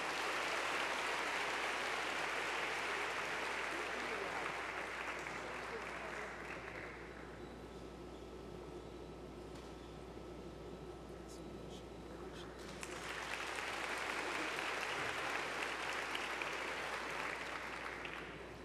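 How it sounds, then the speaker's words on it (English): A crowd claps in sustained applause at a university conference closing session, thinning briefly in the middle, then swelling again, steady and moderately distant. "a round of applause"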